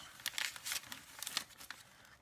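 A paper flip-out page in a dollar-store junk journal is flipped and handled, giving close, crinkly rustling with several quick crackling swishes over a couple of seconds.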